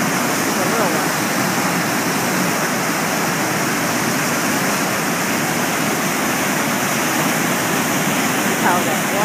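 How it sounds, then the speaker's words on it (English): Continuous loud rushing of a waterfall, a dense, steady roar of falling water with no breaks. "Oh, there's the big falls over there."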